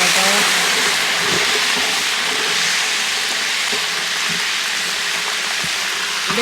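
Ginger and garlic paste frying in a pan makes a loud, continuous hissing sizzle that stays even throughout, with a few faint clatters underneath.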